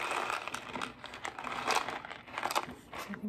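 Crinkly cardboard mac and cheese box and packaging being handled up close in a kitchen, a steady run of crumpling and rustling with a few sharper crackles.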